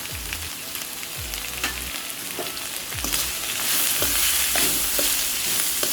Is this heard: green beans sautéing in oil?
yes